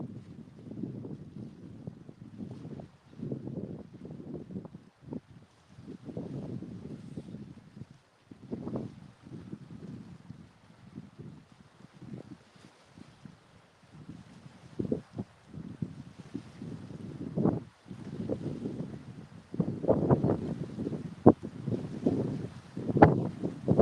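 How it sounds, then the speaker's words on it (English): Strong gusting wind buffets the microphone on a lake during a fishing outing, coming in uneven rumbling bursts that swell and fade across the whole stretch, with no talking. "wind's blowing so hard"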